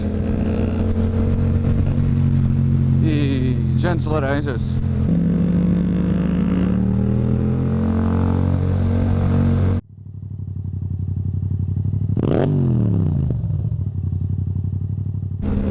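A Yamaha MT-07 motorcycle with an Akrapovic exhaust and orange wheels revs close by, the engine climbing and falling in sharp blips over a steady idle, cutting out briefly before another hard rev; someone talks over it.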